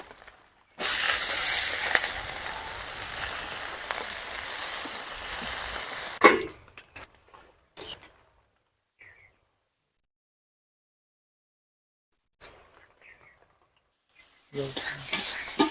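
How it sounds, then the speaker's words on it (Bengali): Water spinach (kalmi greens) with onion frying in a pan gives a loud, close sizzle and hiss for several seconds, then stirring scrapes and clatters before long quiet gaps and a final burst of noise. "দেখো শাকটা আমার ভাজা হয়ে গেছে"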